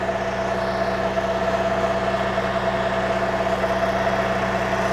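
A BCS 630 WS walk-behind flail mower engine runs steadily at a constant mid-pitched drone with a strong humming tone, close and loud throughout without variation.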